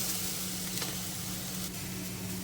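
Fresh green chickpeas roast in a little oil in a pan, making a continuous even sizzle with a low steady hum underneath. No voices are heard.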